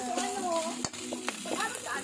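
Food sizzles in a pan while being stirred during home cooking in a provincial kitchen, with scraping strokes and faint background voices and a brief clatter.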